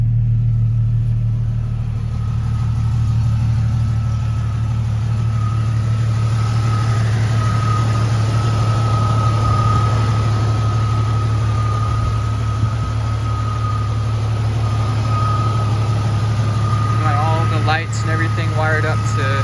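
Engine of a built 1999 Jeep Cherokee XJ idling smooth and steady: a constant low rumble with a faint whine held throughout, loud and close, and a brief voice near the end.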